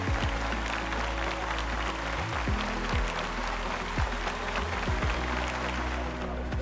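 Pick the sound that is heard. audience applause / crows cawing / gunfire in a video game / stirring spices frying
audience applause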